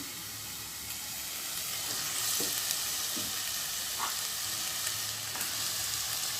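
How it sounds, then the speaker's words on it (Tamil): Oyster mushrooms sauté in oil with ginger garlic paste, giving a continuous soft sizzle and hiss with a few faint stirring taps, moderately quiet and close, no voices. "இப்போ வந்து இந்த காளான் வந்து நம்ம சேர்த்துக்கலாம்"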